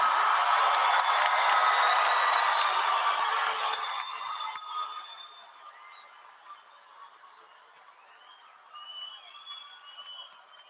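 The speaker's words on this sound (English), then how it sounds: "People in the audience, stand up right now. Cheer, fill this room with love." A graduation audience standing and cheering in a hall, a broad wash of applause and whoops that gradually fades to scattered claps and a few distant shouts.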